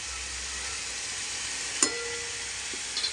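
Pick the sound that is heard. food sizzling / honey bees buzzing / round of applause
food sizzling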